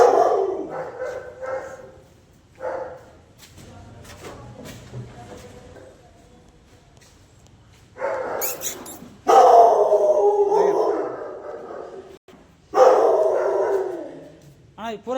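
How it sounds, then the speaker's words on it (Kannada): Dogs barking near a roadside signal in Krishnarajapuram, several sharp bursts in two or three clusters separated by quieter stretches, with traffic and background noise in between. "ನಾಯಿ"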